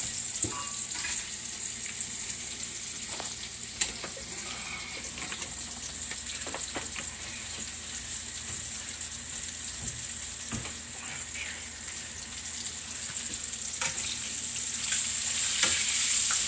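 Gravy bubbles and sizzles steadily in a pan on the heat as it thickens, with soft pops and crackles throughout and no talking.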